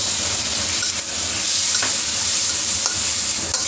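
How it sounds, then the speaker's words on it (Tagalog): Squid adobo cooking in a pan as tomatoes go in, giving a steady, fairly loud sizzle and frying hiss with faint stirring scrapes and no voices. "At ilalagay na natin yung ating kamatis."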